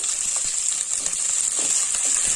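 Urad dal and chana dal seasoning sizzling in hot oil in a pan for a potato stir fry, a steady bright hiss with small crackles and pops, close and continuous without talk.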